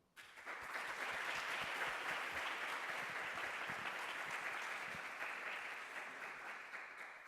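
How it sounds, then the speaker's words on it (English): An audience at an online teaching workshop gives Professor Barbara Oakley a round of applause, a steady wash of many hands clapping that starts abruptly, holds for several seconds and slowly tapers, fairly faint and distant. "Let's give her a round of applause as well."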